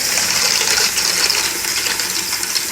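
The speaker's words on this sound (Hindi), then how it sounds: "इसमें डालती हूँ मैं पानी और इसको वॉश कर लेती हूँ" Water pours steadily into a container to wash it at home, a continuous close hiss and splash that stays even throughout with no talking.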